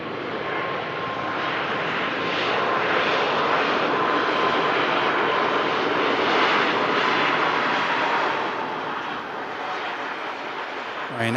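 A Ryanair airliner in from Dublin roars on the runway at Manchester Airport in thick fog, a loud, sustained engine rumble and whine lasting the whole stretch, with a voice talking over it.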